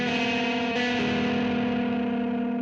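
An electric guitar played through a Joyo AC Tone amp-simulator pedal rings out as a sustained, slightly driven chord with a soft attack, decaying evenly over a few seconds and alone in the mix.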